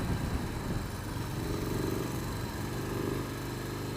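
A Harley-Davidson Low Rider S motorcycle rumbles steadily and loudly while being ridden hard through leaning turns, its low engine drone constant throughout with no talk.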